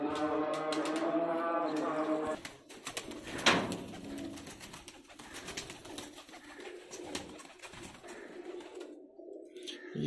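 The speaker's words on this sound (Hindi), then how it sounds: "उस्ताद मियां एहसन रशीदपुरी साहब के, उनके मेन ब्रीडर कबूतर आपको दिखा रहे हैं।" Breeder pigeons coo softly in low, throaty bursts, with rustling and scattered clicks around them; a voice hums briefly at the start.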